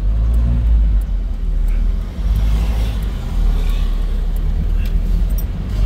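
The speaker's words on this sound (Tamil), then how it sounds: "நம்ம பெட்ரோல் கார் அப்படி மெதுவா விரல் வச்சு ஓடணும்." An old petrol car's engine runs steadily in Jaffna, a loud, close, continuous low rumble with slight dips, heard alone without other sounds on top.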